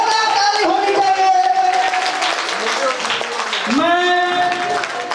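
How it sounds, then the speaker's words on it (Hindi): Applause at a company's second anniversary celebration on stage, a steady, fairly loud wash of clapping from a crowd, with a voice speaking over it. "ताली होनी चाहिए।"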